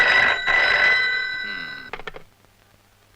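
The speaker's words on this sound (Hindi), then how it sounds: "मेरे बुन्नू का फोन है?" A telephone bell rings loudly and continuously for nearly two seconds, then cuts off, followed by faint clicks and handling sounds as the receiver is picked up.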